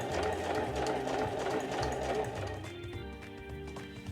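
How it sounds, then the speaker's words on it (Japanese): A sewing machine runs steadily while stitching a 7 mm seam on a smartphone pochette with a lining layer. The motor hum is continuous and fairly loud, ending in a slightly softer, tonal stretch. "縫い目を見ながら7ミリを縫いましょう。"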